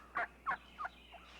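Wild turkey toms parade and gobble, giving three quick, rattling calls followed by a fainter fourth, fairly close and clear over a quiet outdoor background.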